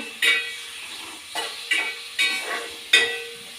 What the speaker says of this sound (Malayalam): എന്നിട്ട് എണ്ണ എല്ലാം ഒഴിച്ചിട്ട് ഇളക്കി കൊടുക്കുകയാണ്